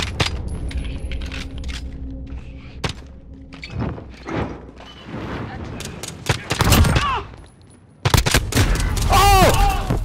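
Gunfire in a shooter video game: bursts of shots and impacts crackle and thud through a busy battle mix, with a brief lull before a loud dense barrage near the end; players talk over parts of it.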